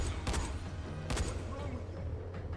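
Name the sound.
single-shot rifle gunfire in the video game Dying Light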